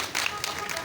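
An audience claps in a brief burst of scattered, fairly faint applause at a spiritual discourse, with a voice speaking over it.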